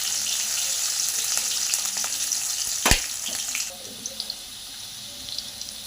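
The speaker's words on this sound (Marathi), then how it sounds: "तेल आपलं गरम झालेलं आहे। यामध्ये आपण 1 चमचा जिरे घालूया।" Cumin seeds, finely chopped green chili and garlic hitting hot oil, a bright steady sizzle with a sharp spatter burst near the middle, then quieter crackling with small pops, close up.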